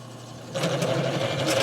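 Drill bit boring into roughly 1/8 inch mild steel with no pilot hole and no cutting oil: a steady whirring grind that starts abruptly after a brief quiet lead-in and holds at a fairly loud, constant level with slight scraping fluctuations.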